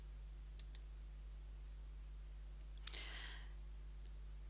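A computer mouse gives one sharp click on an Accept button during an online account sign-up, heard alone and close against a quiet room with a faint electrical hum.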